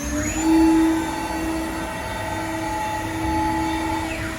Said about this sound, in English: That will then start the spindle up.